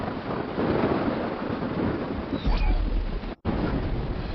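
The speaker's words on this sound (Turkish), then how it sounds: "Fena bir gök gürlemesi var." A thunderstorm in the video game ARK, with a deep thunder rumble swelling midway over a steady wash of rain and wind. The storm is moderately loud, with a short cut near the end.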